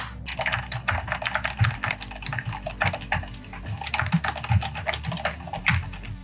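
Rapid, steady keystrokes clatter on a Fuhlen G900S mechanical gaming keyboard with anti-ghosting keys, close and fairly loud, with continuous typing and no voices.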